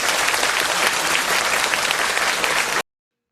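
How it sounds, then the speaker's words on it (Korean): Applause for four high school students after the final round of a national debate contest, a dense and steady burst of clapping from a large audience that runs for nearly three seconds and then cuts off. "이 4명의 학생들한테 격려의 박수를 쳐주시기 바랍니다."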